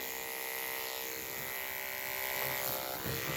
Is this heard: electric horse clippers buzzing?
yes